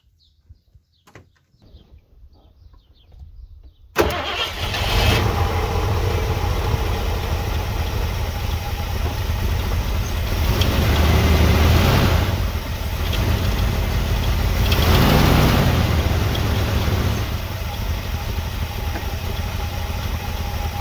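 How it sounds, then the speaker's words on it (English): A few faint clicks come first, then the engine of a 1970 Ford Mustang Mach 1, not run in 30 years, abruptly cranks to life and settles into a loud, steady rumbling idle that swells slightly now and then. "There it is, no gas pedal. It is idling."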